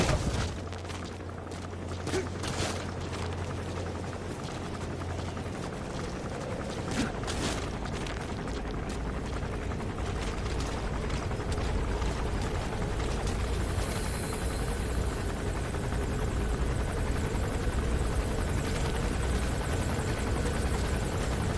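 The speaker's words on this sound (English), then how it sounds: "That's an enemy gunship. A single burst from its machine gun can cut a man in half." An enemy gunship helicopter in Metal Gear Solid V: The Phantom Pain, its steady rotor and engine drone holding for over twenty seconds amid game ambience, with brief thumps and a low hum early on.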